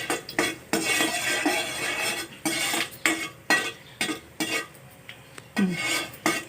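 Cumin and coriander seeds roasting in a pan for amla pickle, stirred with a metal spoon that scrapes and clinks in short repeated bursts, close and fairly loud with a dry rustle between strokes.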